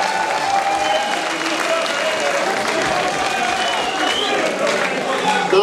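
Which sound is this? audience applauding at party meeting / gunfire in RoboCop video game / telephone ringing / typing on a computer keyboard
audience applauding at party meeting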